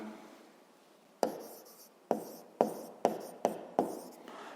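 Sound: writing in coordinate quadrants

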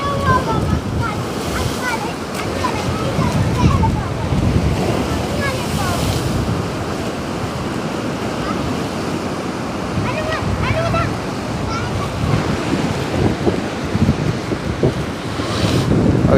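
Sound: sea waves with wind

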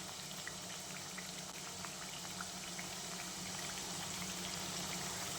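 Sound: jowar chakli frying in hot oil

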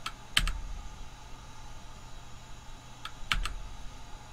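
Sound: computer keyboard keys being pressed

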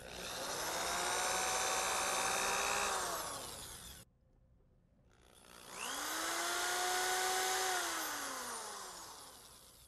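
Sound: power drill drilling pilot holes in door jamb

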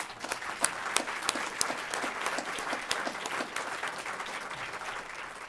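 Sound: applause

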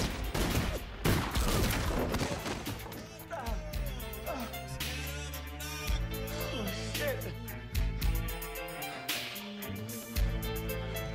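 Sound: gunfire in an action movie

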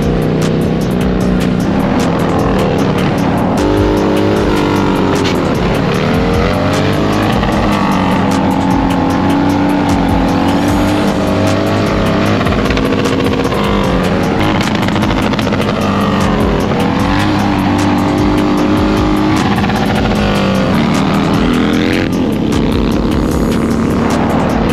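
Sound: Harley-Davidson motorcycles riding fast

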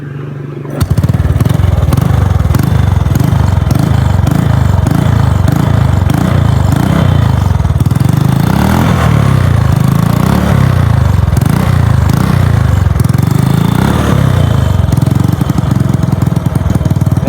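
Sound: Honda Wave 100s motorcycle engine running

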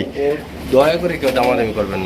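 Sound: pigeons cooing

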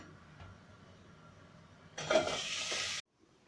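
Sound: potatoes frying in oil

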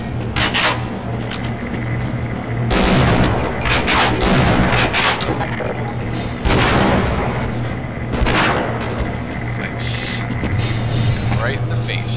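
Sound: grenade explosion in Half-Life video game

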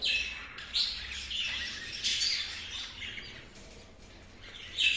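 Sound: budgerigars chirping

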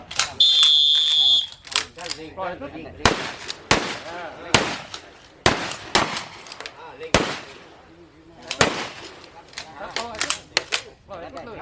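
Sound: live-ammunition gunfire at shooting training

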